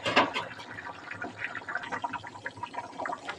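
Hot water is poured over chicken in a pot for a chicken stew, a faint splashing, gurgling fill with a brief stronger gush at the start, then uneven trickling and bubbling throughout.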